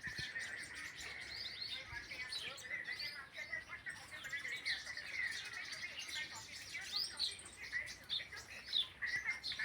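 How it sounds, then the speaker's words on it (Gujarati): Many sparrows chirp steadily at midday around a flowering garden, a dense, busy chatter of small bird calls at a moderate distance, with soft background noise and no clear speech. "ચકલીઓનો જ અવાજ આવે છે."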